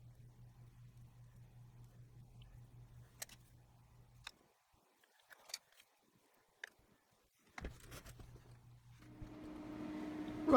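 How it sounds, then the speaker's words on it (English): A paint-spray extractor fan hums steadily at a low level for the first four seconds, drops out, then returns at about seven and a half seconds and swells louder toward the end, with scattered small taps and clicks in between. "you can hear the extractor still going"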